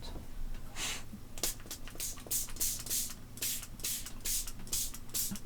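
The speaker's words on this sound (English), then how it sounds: "I'm just going to grab a sprayer" Spray bottle misting water onto ultramarine paint in mixed-media artwork: about a dozen close, breathy hissing bursts in an uneven rhythm, each short puff followed by a brief pause.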